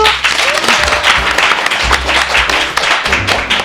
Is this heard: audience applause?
yes